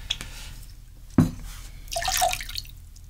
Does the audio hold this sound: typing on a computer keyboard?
no